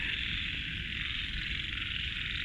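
A dense chorus of frogs croaking steadily in a rain-soaked wooded garden in Nonthaburi, near Bangkok, a continuous wall of calls with no pauses and no voices.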